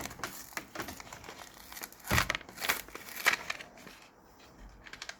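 Crinkly plastic packaging around small toy clothes hangers for a Barbie wardrobe being opened, with close, soft bursts of crinkling and crackling, no talk.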